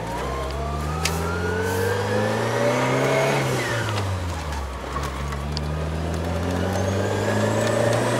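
A manual transmission car's engine revs and holds steady as the clutch is engaged from neutral into first gear with light throttle, a continuous close engine drone with rising and falling pitch sweeps and no talk.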